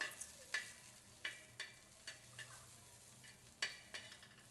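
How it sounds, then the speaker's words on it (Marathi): Dry coconut roasting in a pan, faint scattered scrapes and taps of stirring over a soft background hiss, quiet and close with no talking. "सुकं खोबरं पण थोडं थोडं काळपट होईपर्यंत भाजून घ्यायचं."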